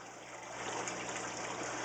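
Water gushes steadily into an aquarium overflow system as air is drawn out, a continuous close rushing trickle that grows slightly louder, over a low constant pump hum.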